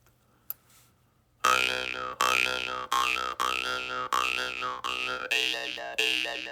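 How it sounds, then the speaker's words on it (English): Jaw harp played close and loud, switching between open and closed throat, a series of twangy boinging notes in steady pulses with shifting vowel-like overtones after a brief click. "I'm going to play something on the jaw harp."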